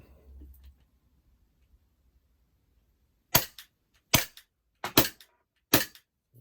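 Airsoft Glock pistol firing during shoot testing: four sharp, loud shots spaced about a second apart after a quiet stretch, each with a brief clack of the slide.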